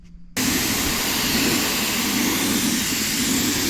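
A spray gun sprays neon chartreuse paint onto demolition derby rims in a workshop, a loud, steady hiss and roar that starts abruptly and holds close and constant to the end.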